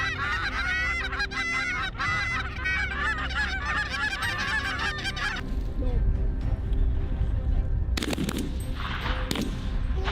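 Wild geese honking loudly in a dense chorus for several seconds, then dropping to scattered distant calls, with bursts of gunfire near the end.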